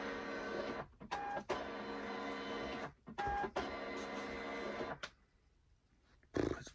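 A label printer turning out parcel shipping labels in bursts of loud mechanical whirring, several separate runs with short pauses between them, close by and alone.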